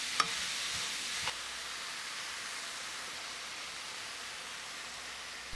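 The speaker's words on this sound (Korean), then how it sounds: "팽이버섯을 넣어 볶아주세요." Tofu and enoki mushrooms stir-fry in a pan with a steady, hissing sizzle, a couple of brief clanks of a utensil early on, no voices.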